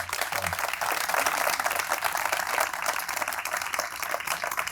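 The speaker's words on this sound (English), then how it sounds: "And let's give them a round of applause." A crowd at a press conference for the Butler Gateway Project claps in sustained, fairly even applause, moderately distant and without speech on top.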